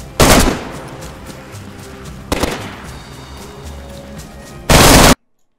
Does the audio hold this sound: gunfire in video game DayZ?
yes